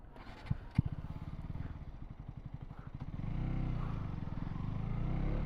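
A KTM RC200 motorcycle's single-cylinder engine, which has a pickup problem, putters and clatters, then revs up with rising RPM into a sustained, louder drone, heard close with no talking.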